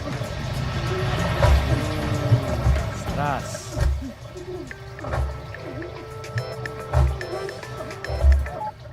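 A boat engine on water starts and runs with low rhythmic thumping pulses and splashing, heard close under people talking.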